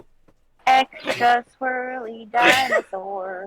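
A sneeze bursts out amid casual speech, sharp and close, with talking around it.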